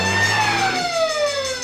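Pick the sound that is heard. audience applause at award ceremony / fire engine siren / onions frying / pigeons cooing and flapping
fire engine siren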